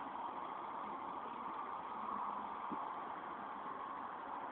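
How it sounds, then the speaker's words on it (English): A new moped, spray-painted in camouflage, idles with a faint, steady low hum that stays even and unchanging, heard from a distance under a broad noise floor, with no voices. "That's Chris's new moped."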